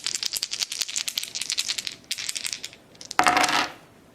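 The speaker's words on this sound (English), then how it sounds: "So I only roll 3 dice now" Three game dice for the Runebound board game rattle and click as they are shaken and rolled. A rapid, close clatter comes in bursts, with a short pause, then a final louder tumble as they settle, and there is no talk.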